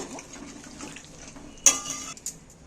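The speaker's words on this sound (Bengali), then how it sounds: "জলটা আমি একটু বেশি পরিমাণেই দিয়েছি যে না পাতলা ঝোল করব" Water is poured into a pan of spiced fish curry to make a thin gravy, with a quiet trickle followed by a sudden brief splashing gush, close and without talk.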